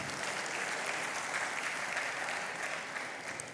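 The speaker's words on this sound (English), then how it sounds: "Can we give them a round of applause?" A graduation ceremony audience at a business school applauds in a dense, sustained wash of clapping that holds steady and tapers slightly near the end, heard from within the hall.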